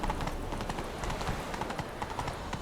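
Roach the horse gallops in The Witcher 3: Wild Hunt, a steady rapid clip-clop of hooves, close and continuous under a faint ambient bed.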